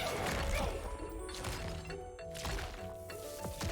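Sorceress Shockwave spell explosion in the video game Lost Ark, a delayed blast that builds in stages, heard as a dense stretch of thudding, crashing impacts with layered game effects, steady and fairly loud throughout.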